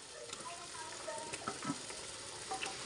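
Spice paste and chopped tomato for a prawn curry sauté quietly in a pan, giving a soft, steady sizzle with a few light stirring scrapes and clicks scattered through.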